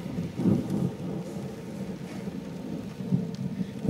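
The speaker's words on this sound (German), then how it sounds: "Blitz war doch sehr, sehr dicht dran." Thunderstorm with rain falling steadily and low rolling thunder from a nearby lightning strike, rumbling in uneven swells across the whole stretch with no voices.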